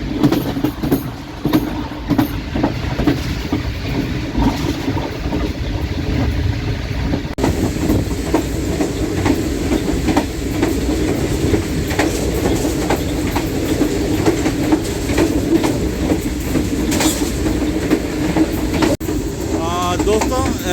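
15 Up Karachi Express passing straight through Chichawatni railway station on the Multan to Lahore run, a steady loud rumble and rhythmic clickety-clack of wheels over the rails throughout, with voices talking faintly over the din.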